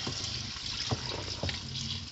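Tap water runs over pumpkin pieces to rinse off lime while making homemade pumpkin sweet. It is a quiet, steady splashing and trickling with a few brief louder splashes.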